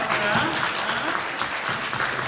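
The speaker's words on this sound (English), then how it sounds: "Everyone give him a round of applause." An audience at an Anime Jeopardy event gives a round of applause for an assistant, a steady dense clapping that fills the room for a couple of seconds with some crowd noise mixed in.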